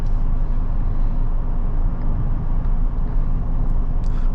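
Cadillac XT5 3.6 AWD (2022) engine accelerating on a test drive, a steady loud broadband rumble of engine and road noise filling the cabin throughout, with no speech.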